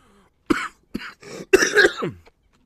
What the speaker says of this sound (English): Oh, I love having a cough.